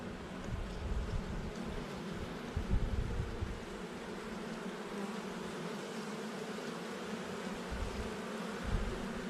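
Honeybees buzz around an open hive during a winter inspection, a soft, continuous droning hum with a few closer passes that swell briefly.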